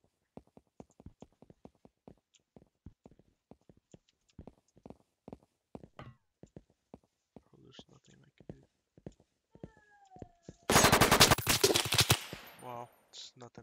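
Gunfire in a game called Jailbird: scattered single shots at first, growing into a loud, rapid automatic burst near the end, with a voice speaking over parts of it.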